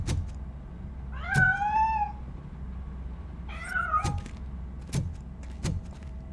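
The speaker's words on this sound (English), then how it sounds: "That cat must be hiding inside." A cat meows twice in the video game Robocop: Rogue City, two drawn-out wavering cries a couple of seconds apart, with sharp clicks and knocks around them.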